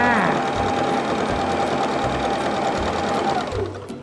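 A sewing machine runs steadily, stitching the bottom seam of a large cloth drawstring bag with a carry strap, a continuous close mechanical whir with brief rhythmic thumps at the start and end of the seam.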